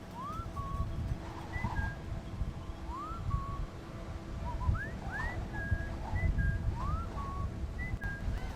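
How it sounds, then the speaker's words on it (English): Several short rising whistles in the video game Splinter Cell: Chaos Theory repeat at irregular intervals over a steady low ambient rumble, each a quick upward swoop followed by a brief held note. "Someone whistling for me to come over?"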